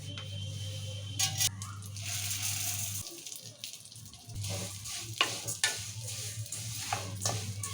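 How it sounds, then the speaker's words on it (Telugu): Vermicelli frying in ghee in a pan, stirred as it browns: bubbling sizzle with repeated clicks and scrapes of a spoon, a low steady hum underneath during the first few seconds, no speech. "ఇదే నెయ్యిలో ఇప్పుడు సేమియా కూడా వేసుకుందాము"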